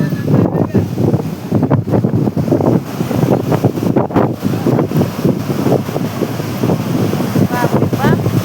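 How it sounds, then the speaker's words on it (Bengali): Ocean waves crash amid strong wind buffeting the microphone, a loud, continuous roar with a voice murmuring or chanting throughout. "তোমাদেরকে দেখাই ঢেউগুলো"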